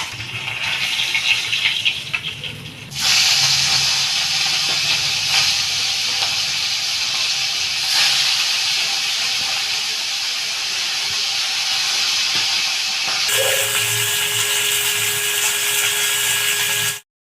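Fish frying in hot oil in a pan, a loud, continuous sizzling hiss that swells sharply after a quieter start and runs on steadily, with a brief voice early on.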